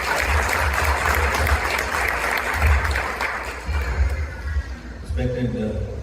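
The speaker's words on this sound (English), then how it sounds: "So please, with your round of applause, welcome Mohammed Azhar." An audience at a Chicago celebration of a Karnataka election victory applauds to welcome Mohammed Azhar, with steady clapping beneath a voice speaking over a microphone, and the applause thinning toward the end.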